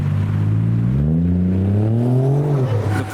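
A Porsche 944 engine revs near speed bumps, a loud close droning growl whose pitch climbs steadily and then drops off as the throttle eases near the end.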